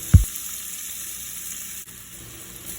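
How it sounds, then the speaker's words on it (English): Onions are dropped into a hot pot for pasta sauce, a brief thump followed by a steady, soft sizzle that continues evenly on its own. "Next, let's add in our onions"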